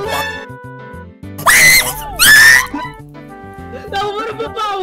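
A character screams while dying in the Blocks n' Props video game: two loud, drawn-out screams in a row, set against bleeping game tones and followed by a higher chirping cry.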